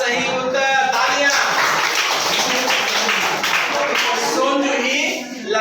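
Students in a classroom quiz break into applause: many hands clap together in a dense, steady patter that holds at an even level for several seconds before tapering off.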